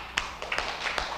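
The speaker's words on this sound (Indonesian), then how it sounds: "Kita kasih tepuk tangan." Students in a classroom give brief applause after a group presentation, a handful of sharp separate claps spaced unevenly over about a second, fairly close and moderately loud.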